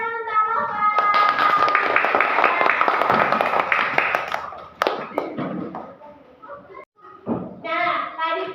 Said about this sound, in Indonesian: Berikan tepuk tangan untuk Nova.